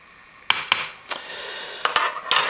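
Eggs cracked with the heavy end of a butter knife: several sharp, close taps against shell, in spaced clusters of one or two knocks over a faint background.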